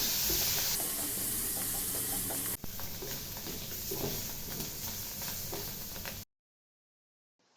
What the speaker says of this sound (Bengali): মাশরুমগুলো এপাশ ওপাশ করে ১ চা চামচ সয়া সস দিয়ে ৪ মিনিট ভেজে উঠিয়ে রাখলাম